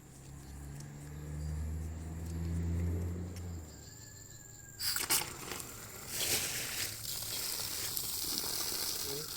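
Car going past outdoors during roadside pipe repair work, a low engine rumble that swells and fades over the first few seconds, followed by hissing spray and scraping sounds, no speech.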